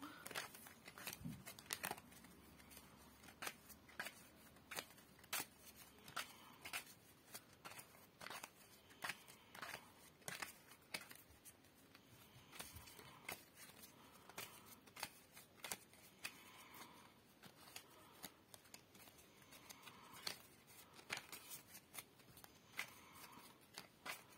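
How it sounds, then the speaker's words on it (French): Tarot cards being shuffled for a reading give faint, close, irregular papery riffles and taps that repeat in short bursts through a quiet room. "Maintenant, on va faire tirage pour Marine Le Pen"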